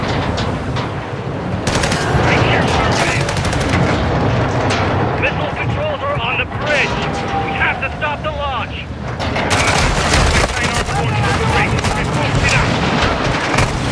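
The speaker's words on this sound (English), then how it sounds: "Let's have ourselves a gunfight." A gunfight in Call of Duty: Modern Warfare II, with loud, dense bursts of automatic gunfire and heavy booming blasts sustained across the whole stretch, and a voice talking over the combat.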